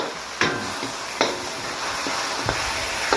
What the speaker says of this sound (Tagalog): Lagay na natin itong kamatis, haluin natin.